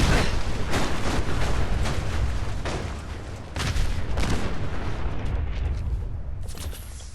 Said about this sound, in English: It literally went up in a giant explosion.